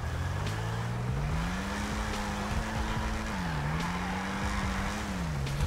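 Ocelot Jaguar sports car from GTA V Online driving with a steady engine drone whose pitch rises and dips as it shifts, with some tire noise, loud and continuous throughout.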